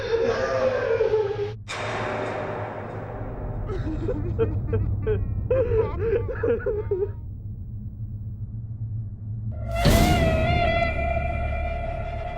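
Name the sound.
someone crying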